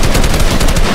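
Fast, sustained automatic assault rifle fire from the Fortnite video game, loud and close, a dense unbroken burst of shots with no talking.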